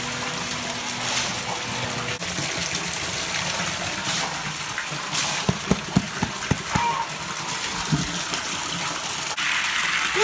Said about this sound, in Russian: наполнится водой, и мы приступим к процессу промывания кофе